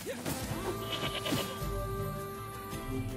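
A sheep bleating in the video game NieR Replicant, one wavering bleat up close over a sustained tonal game backdrop.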